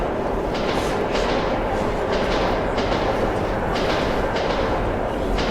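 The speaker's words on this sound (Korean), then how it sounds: "지하철이 지나간다" A subway train rumbles past in the video game Metro 2033, a loud, steady low roar with rhythmic clattering bursts from the rails throughout, no talking.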